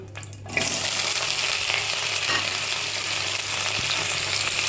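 Bitter gourd and pumpkin frying in oil tempered with nigella seeds: a sudden loud hiss bursts in after a brief quiet start, then a dense, steady sizzle runs on without talk.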